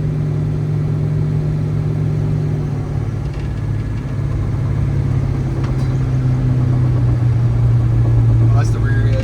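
A 1969 Dodge Charger on a road trip rolls along in third gear, its engine droning steadily as the rear-end locker whines and clunks beneath the hum, with a few faint clicks and a soft rattle near the end.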